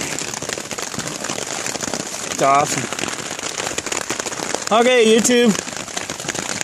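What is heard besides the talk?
rain hitting a tarp shelter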